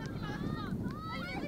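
Strong wind buffets an effects microphone at a women's football match between Calder United and Heidelberg United, a steady low rumble running throughout beneath faint whistling tones, with talking audible over it.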